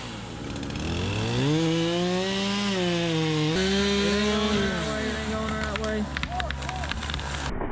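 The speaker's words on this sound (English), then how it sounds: "Bobcat and a chainsaw." A chainsaw runs loud and close while cutting a tree during land clearing with a Bobcat skid steer, its engine note rising and falling under load, with someone talking over it.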